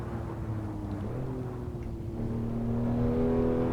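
Porsche engine in a sim racing game, a steady droning hum whose pitch slowly climbs as the car accelerates, close and alone without talk.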